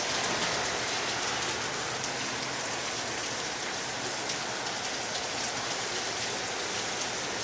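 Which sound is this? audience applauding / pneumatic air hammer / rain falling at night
rain falling at night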